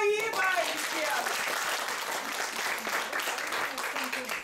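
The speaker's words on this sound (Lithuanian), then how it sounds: "Tad audringi plojimai visiems!" A crowd claps steadily in a dense, sustained burst of applause, moderately loud, with a voice briefly audible at the start.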